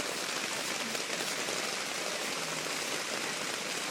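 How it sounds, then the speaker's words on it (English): Steady rain falls continuously with a dense, even patter and hiss that stays at the same moderate level throughout, and no voices are heard. "It's raining."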